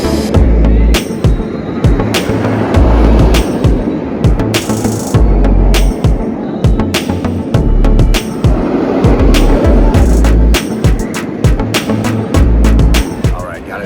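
Front-row ride on the Afterburn roller coaster at Carowinds: loud rumbling roar with rhythmic heavy clacks and thumps from the track, wind buffeting the microphone throughout.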